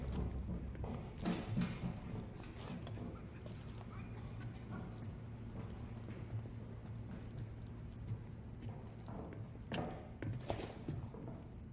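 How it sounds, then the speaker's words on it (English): Footsteps in the tactical shooter Rainbow Six Siege form a steady stream of soft, scattered taps and thuds, some nearer than others, over a constant noisy game background. "That's why I'm hearing all the footsteps."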